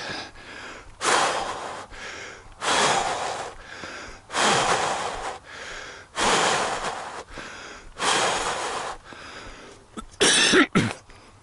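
Heavy, labored breathing from a runner with serious breathing trouble, stopped to walk and recover after running a 5K: loud ragged gasps and coughing bursts in a steady rhythm, close up, with no talk.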